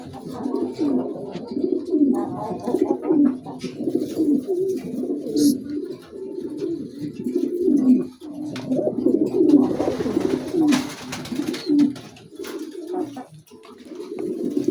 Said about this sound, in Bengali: গোল্ডেন কবুতর